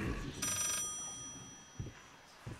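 A telephone rings in the horror video game Layers of Fear, a short, faint electronic ring from somewhere downstairs, heard once against a quiet, hollow room tone.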